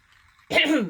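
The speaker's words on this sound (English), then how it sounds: "I had a cough. That was a legit cough." A single sharp cough bursts out after a near-silent moment, close and fairly loud, with a rough, voiced tail.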